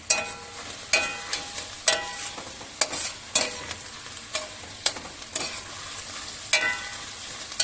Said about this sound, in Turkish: Hemen içine kıl biberimizi döküyoruz. Beraber pişiriyoruz.